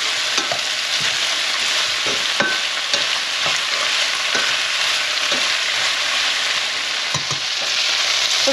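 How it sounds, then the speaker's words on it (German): Beef for goulash browning in a frying pan, a steady broad sizzle throughout with occasional soft stirring scrapes and clicks, fairly loud and close, no voices. "Und schön braun anbraten lassen."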